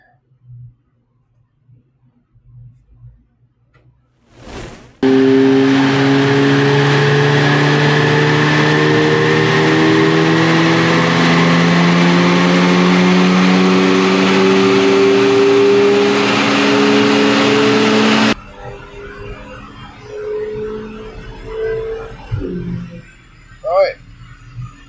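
An Audi S3 fitted with a sports catalytic converter revs hard on a dyno for a sustained pull, loud rising engine roar held for about thirteen seconds before cutting off abruptly, followed by quieter shop noise and brief talk.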